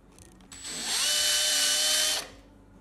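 Drill bit boring a hole for a bushing in a part on a metal lathe: a steady high whine rises to a sustained cut for over a second, then drops away, close and alone.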